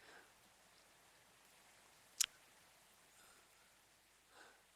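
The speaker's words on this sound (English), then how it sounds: "weren't expecting it to rain that bad, but it did" Steady hush of rain falling in a coffee shop video game, a faint, even patter throughout with one sharp brief click midway and a soft swell near the end.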